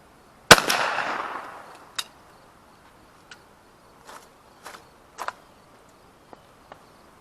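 A 20 gauge over-under shotgun fires a Federal steel shot load outdoors during pattern testing: one sharp, loud blast with a decaying tail, followed by faint scattered clicks and small knocks.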